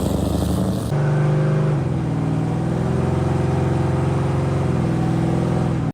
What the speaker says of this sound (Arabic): بس طبعا الحماس بياخده جدا وبيقرر انه لازم ياخد العربيه ويجربها